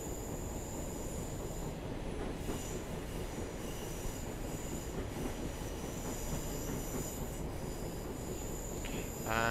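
A Class 150 diesel train rolls slowly around a curve into Bristol Temple Meads, with continuous loud rumbling wheel and engine noise throughout and a sharp wheel squeal rising near the end.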